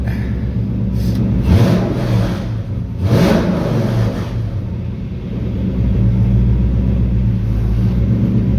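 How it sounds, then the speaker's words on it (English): A car engine with a newly repaired fuel pressure regulator revs up sharply twice from a rumbling idle, each blip rising and falling quickly, then settles into a steady, slightly louder hum. "And then when you rev it"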